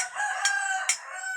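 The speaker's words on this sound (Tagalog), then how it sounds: "Ayan, may chicken pa doon" Rooster crowing outdoors in the morning, two bright strained calls rising over a steady ongoing crow-like tone, fairly close and loud, with no talking.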